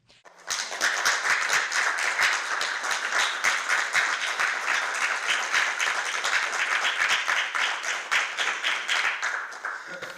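Sustained applause from an audience at a theatre farewell for actor Laze Manaskovski, many hands clapping steadily for about ten seconds before it starts to fade near the end.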